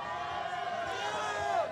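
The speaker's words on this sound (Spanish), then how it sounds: "Y sale aplaudido" Stadium crowd at a Rosmini versus San Vicente de Paul school football match, applauding goalkeeper Castellanos as he is substituted off, a steady, fairly distant roar of voices and clapping with no clear talk.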